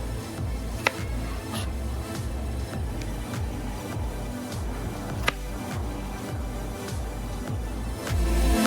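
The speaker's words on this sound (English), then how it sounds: "I'm cutting the banana into half to make it easy to fry, and then I'm cutting it into thin slices" A knife slices a peeled banana into thin slices in quick, even strokes, with a steady rhythm of soft taps on the board and one or two sharper clicks.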